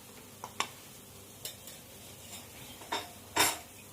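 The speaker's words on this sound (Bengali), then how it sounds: "মশলাটাকে আমি ভালো করে পেঁয়াজ, আদা রসুনের সাথে ভালো করে কষিয়ে নেব।" Chicken mandi masala being sautéed in a pan with onion, ginger and garlic, with soft spoon scrapes and stirring clinks over a faint sizzle, quiet and close, with several separate strokes.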